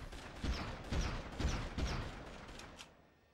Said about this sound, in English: Now who's shooting me?